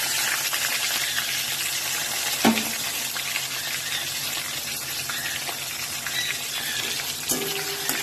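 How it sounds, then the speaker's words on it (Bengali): Chopped onions fry in a pan for a katla fish curry, giving a constant loud hiss of sizzling oil. Two brief clunks of a utensil break in partway through, with no talking. "এবার একটু পেঁয়াজটাকে ভাজা ভাজা করে নেবো"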